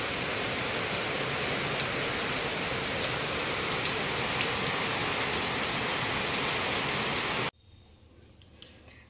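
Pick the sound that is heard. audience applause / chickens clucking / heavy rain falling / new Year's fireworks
heavy rain falling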